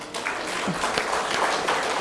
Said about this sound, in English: I think this also deserves a clap.